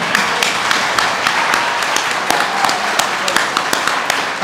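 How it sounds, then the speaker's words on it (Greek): An audience claps at a school celebration event, with sparse, uneven individual claps and sharp taps scattered over a steady murmur of room noise for several seconds. "Εντάξει, ένα χειροκρότημα."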